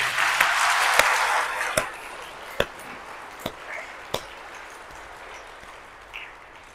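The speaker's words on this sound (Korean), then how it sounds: "할 수 있으면 박수 한번 쳐보세요." Church seminar audience applauding in a broad wash of clapping that starts strong and fades over a few seconds, with scattered sharp single claps trailing off afterward.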